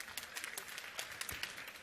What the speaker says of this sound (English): A big round of applause for Stephanie.